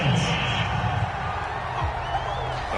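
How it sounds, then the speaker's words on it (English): Stadium crowd in a PS4 football video game reacting to a roughing penalty call, a steady broad roar with scattered whoops and jeers running throughout alongside game sounds. "this crowd does not like that call"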